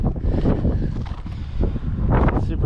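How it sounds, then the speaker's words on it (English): Strong wind at the hilltop Xàtiva Fortress near Valencia buffets the microphone with loud, continuous rumbling gusts throughout, swelling again near the end. "Super windy though."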